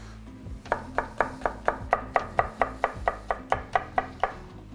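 A knife chops onion and hot pepper on a board in about fifteen quick, even strokes, each a crisp close thud over a low steady background, with no talking.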